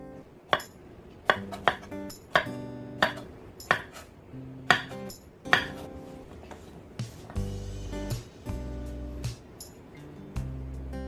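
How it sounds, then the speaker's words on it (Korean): A knife slices one young squash (zucchini), cut into quarters and then diagonally, on a board for stew, producing about a dozen crisp, evenly spaced chops over soft background music. "애호박 1개 4등분해서 어슷하게 썰어주시고요"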